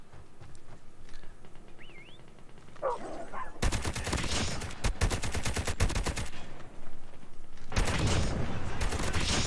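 Rapid automatic gunfire from the mobile shooter COD Mobile comes in two loud, dense bursts with a short pause between them, preceded by quieter game ambience and faint chirps.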